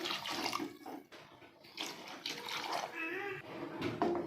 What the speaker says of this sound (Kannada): ನೀರು ಹಾಕ್ಕೋಬೇಕು.